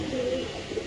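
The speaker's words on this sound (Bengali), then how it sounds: "এখানে আছে এক জোড়া কবুতর, খুব সুন্দর" A pair of pigeons at a pigeon farm coo softly, a brief low throaty call near the listener with faint background murmur.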